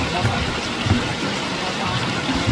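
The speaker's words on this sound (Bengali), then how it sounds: "বৃষ্টি নেমে গেছে, দেখেন" Heavy rain pours over the Sundarbans during a storm, heard from a boat on the water as a dense, steady hiss with no break.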